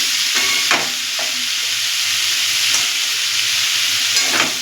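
Fish-oil kundli fries in a pan with added turmeric, giving off a loud, steady close-up sizzle broken by occasional scraping stirs.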